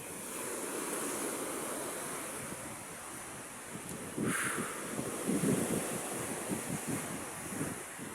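Waves wash onto a littered beach shore in a steady close roar of surf, with gusts of wind buffeting the microphone and a few louder breaking surges midway.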